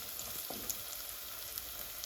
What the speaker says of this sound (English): Now I'm gonna add my onions.